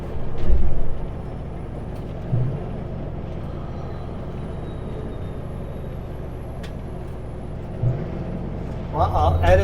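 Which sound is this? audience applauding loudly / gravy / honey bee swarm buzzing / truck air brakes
truck air brakes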